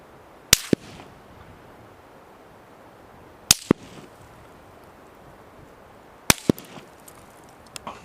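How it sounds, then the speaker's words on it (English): Three supersonic rifle shots a few seconds apart, each a sharp crack quickly followed by a duller thump, over a quiet outdoor background. "it's going to sound first probably like a crack, followed by a thump."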